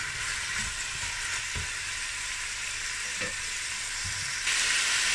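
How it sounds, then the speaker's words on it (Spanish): Pieces of carrot, onion and apple sizzling in hot oil in a pan: a steady, bright, continuous frying hiss with a few soft knocks of stirring, growing slightly louder near the end. "Una vez que ya está el aceite bien caliente, vamos a echar todos los ingredientes."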